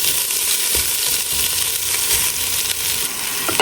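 Onions and beef short rib sizzle loudly as they go back into a hot wok, a steady dense frying hiss with a few soft stirring knocks, close and continuous with no talk.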